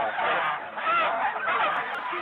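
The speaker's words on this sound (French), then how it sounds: "Des oies plumées vivantes." Geese being plucked alive on a farm honk and cackle in a dense, continuous chorus that stays loud and crowded from start to finish, with no speech.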